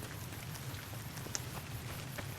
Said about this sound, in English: Zion did add rain effects